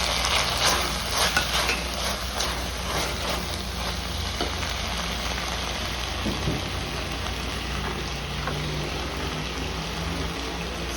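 Tomatoes drop into a pan of frying prawns for a ridge gourd prawn curry, raising a steady close sizzle with occasional stirring clatter over a low hum, and no voices.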